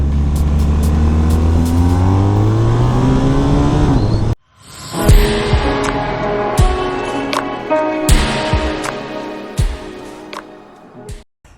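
A BMW R1250R motorcycle accelerates hard along an open national road, its engine note climbing steadily for a few seconds before a cut to a busier stretch of road noise with sharp passing bursts and wind.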